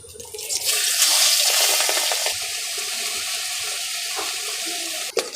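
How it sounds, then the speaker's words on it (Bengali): Shrimp dropped into hot oil in a wok: a loud, dense sizzle that surges, then settles into a steady frying hiss lasting several seconds, close up, with a brief clink near the end. "তেল গরম হয়ে গেছে, এবার চিংড়ি মাছগুলো দিয়ে দেব।"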